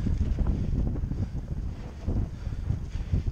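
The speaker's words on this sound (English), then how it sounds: "it was windy that day, so it was really windy" Gusty wind buffets a microphone on a cyclocross racecourse, a rough, low rumbling roar that surges and dips in uneven bursts over a few seconds with no voices.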